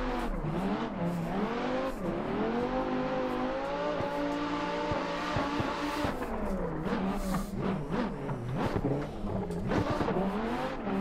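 A roughly 800 to 1,000 horsepower Dodge Viper drift car in a drift competition racing game, its engine revving hard and continuously on the track, the pitch climbing and dipping through gear changes, loud and close with tire squeal mixed in.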